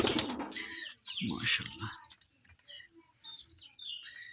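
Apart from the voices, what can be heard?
Gorra pigeons cooing and flapping on a small pigeon farm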